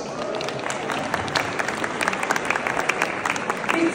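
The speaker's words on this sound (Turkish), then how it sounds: "Bu güzel proje için kocaman bir alkış." A gala audience applauds a housing project, with dense, sustained clapping that carries individual sharp claps near the end.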